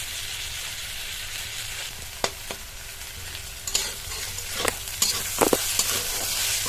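Bitter gourd, onion and garlic with whole cumin frying in a pan, giving a steady close sizzle broken by several sharp scrapes and clatters of a spatula stirring the vegetables, with no one talking.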